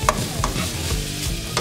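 Tofu cubes stirred in hot cooking oil in a pan, a steady frying sizzle with a few sharp utensil scrapes and clicks near the start and end, close and alone.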